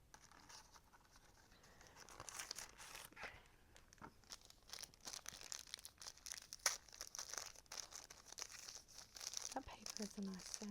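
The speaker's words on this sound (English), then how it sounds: "That paper is a nice sound, nice crinkly sound as well." Paper crinkles and rustles up close as a package is opened, soft scratchy crackles and tearing in irregular bursts, quiet and intimate.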